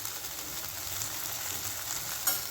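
Turmeric and coriander-cumin powder go into a hot pan, setting off a steady, close hiss of sizzling oil that holds evenly throughout with a small flare near the end.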